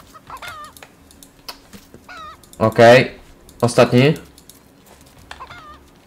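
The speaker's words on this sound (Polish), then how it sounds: "O, kurczak." A chicken in the survival game Raft clucks in quick, sharp bursts, a couple of louder squawks rising over the quiet game ambience, while someone speaks briefly in between.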